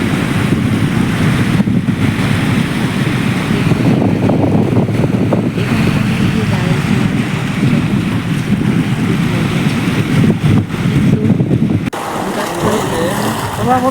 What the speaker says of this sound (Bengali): সমুদ্রের ঢেউ খেলানো শব্দ শুনতে চাইলে